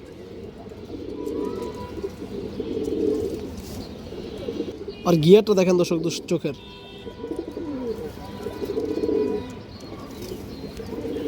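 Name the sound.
pigeon cooing in a cage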